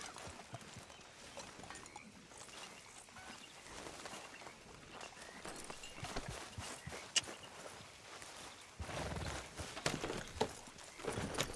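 Soft, irregular hoof clip-clops of a horse in the game Red Dead Redemption 2 over a low outdoor background, faint at first and growing a little louder toward the end.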